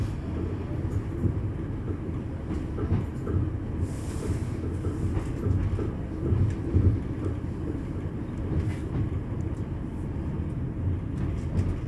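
A train rumbles steadily past at close range, a continuous heavy roar with rattling and clanking from the cars.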